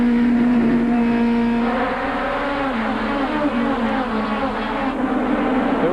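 4-cylinder Goody's Dash race cars at Bristol Motor Speedway in 1994, a pack of engines buzzing loudly at high revs with overlapping tones that sweep and shift as the cars pass, heard without talk.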